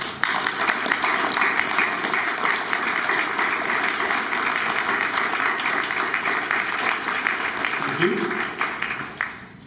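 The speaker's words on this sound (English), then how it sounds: "Please give them a huge round of applause." Audience applauding at a defence ministers' meeting keynote, a steady, full round of clapping lasting nearly ten seconds before tapering off, with a brief voice near the end.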